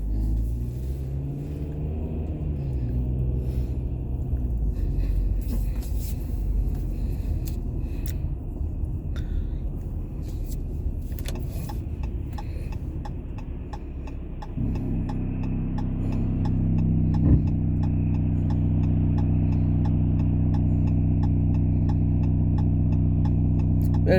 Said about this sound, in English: I just realized the bus just passed.